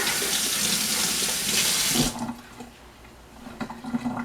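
Hands washed under a running kitchen tap, with a loud steady rush of water for about two seconds before it cuts off, followed by faint drips and small knocks at a sink.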